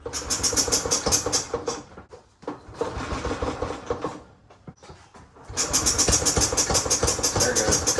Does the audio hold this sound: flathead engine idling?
yes